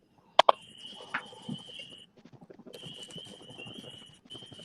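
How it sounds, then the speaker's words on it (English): Pet frogs in an indoor tank give a busy chorus of repeated trilling calls, steady and fairly close, broken by a brief pause and a few sharp knocks near the start. "That's what really is in the tank behind him. The pet frog. It sounds like a million."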